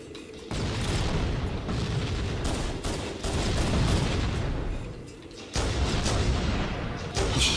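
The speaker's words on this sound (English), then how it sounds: "Somebody's shooting me when they should be shooting Nate." Video game gunfire rattles in dense, sustained bursts of shots and booms, loud and continuous with brief pauses between volleys.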